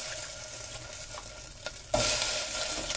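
Washed blueberries cook in a pan. A quiet stirring scrape is followed by a sudden louder, steady sizzle that continues to the end.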